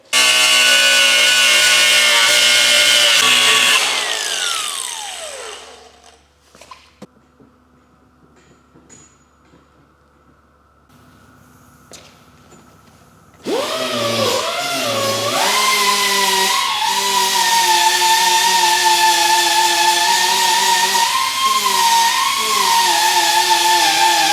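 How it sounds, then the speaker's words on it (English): Loud power tools cut and grind metal tabs off a Mitsubishi Evo 8 body during a restoration, a harsh whining tool that winds down, then a quieter stretch of clatter before a steady loud grinding whine resumes and runs on. "Everything is sanded down, ground down to where it looks as good as it possibly could."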